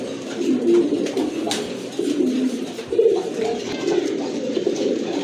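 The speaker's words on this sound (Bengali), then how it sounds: "দেখেন আরেক জোড়া কবুতর আসছে খয়রা গলা কবুতর গিরিবাজের ভিতর" Giribaz pigeons, including a brown-necked pair, coo in repeated low throaty calls, several birds overlapping at close range with faint background rustle.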